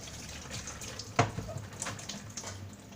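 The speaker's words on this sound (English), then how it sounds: "Rinse off my hand." Tap water running over a hand being rinsed in a home kitchen, a faint steady splash with one brief louder gush, quiet and close.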